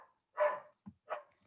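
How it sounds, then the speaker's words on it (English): A dog barks in the background of an indoor conversation: three separate barks, fairly quiet and somewhat distant, with short silent gaps between them and no talking over them. "Sorry about the dog in the background."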